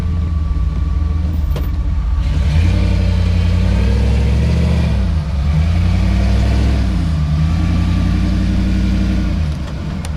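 The Mogstang rock buggy's engine rumbles close by at a low, steady idle, rising in a few short revs and falling back as the four-wheel-steer buggy maneuvers, with no talk over it.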